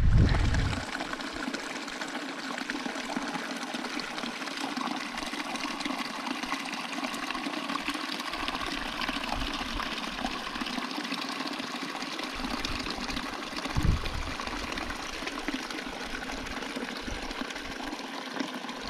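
A mountain stream fed by glacial meltwater flows steadily right off the Continental Divide on the Colorado Trail, a close, continuous rushing and trickling wash with no talk over it.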